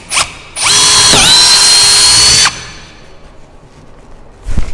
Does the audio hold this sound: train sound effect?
no